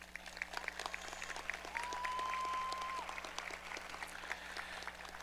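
A high school graduation audience applauds teachers with scattered claps that build and swell at the middle, then thin out. A steady hum and a brief tone sit underneath.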